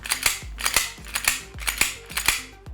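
The aluminium-alloy slide of an ICS airsoft pistol is racked back and forth about five times in a steady rhythm, each stroke giving sharp, close metallic clicks and clacks with no voices.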